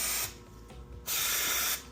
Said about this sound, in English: spray some starter fluid into the carbs